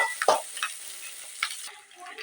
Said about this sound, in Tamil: இப்போ வந்து வெங்காயம் நல்லா வதங்கிடுச்சுங்க